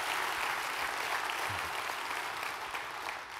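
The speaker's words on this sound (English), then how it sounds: "a round of applause." A church audience gives a sustained round of applause for the pastors at a pro-life talk. The clapping is dense and even from a large crowd, heard at a distance and tapering off at the end.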